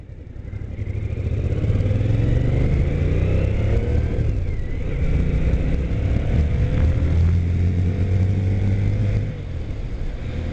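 A car engine roars as it accelerates hard, pitch climbing through gears, loud and close throughout with a brief dip near the end.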